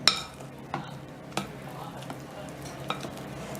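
Birthday cake batter being stirred in a bowl, a soft continuous mixing scrape with a few sharp clinks of the utensil against the bowl, close and steady.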